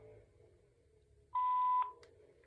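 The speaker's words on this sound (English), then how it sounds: "Please leave a message after the tone." A home answering machine on a corded/cordless two-line phone gives a single steady electronic beep, loud and close, lasting about half a second after quiet line hiss, with a short click at its end.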